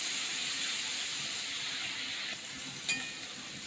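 A steady, loud sizzle and hiss as water hits frying spices in a hot pan, continuing without a break, with a brief sharp clink near the end.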